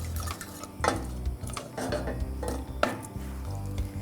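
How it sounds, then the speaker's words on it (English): Sugar syrup is stirred in a pan on the heat while the sugar dissolves, giving soft scraping and clinking of a utensil against the pan in irregular strokes close by. "I'm just going to stir and get that sugar to dissolve and come to the boil"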